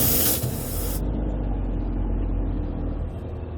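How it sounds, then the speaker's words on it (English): Air hisses from the tire valve on a 2016 Winnebago Vista motorhome as a TPMS sensor is threaded on. A sharp, loud burst of escaping air lasts about a second, then settles into a quieter, steady hiss. "You will hear a little bit of air coming out"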